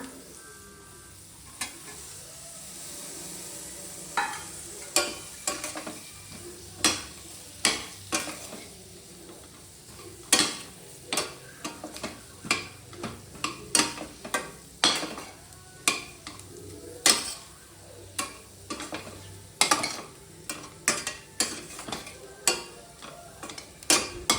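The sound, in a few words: egg frying in pan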